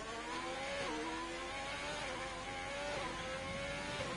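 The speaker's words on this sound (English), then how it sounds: "The car does sound a bit strange" Race car engine in a racing video game at Singapore, running with an odd, uneven note, a steady whining drone with pitch wobbles and slight dips, fairly faint and continuous with no talk.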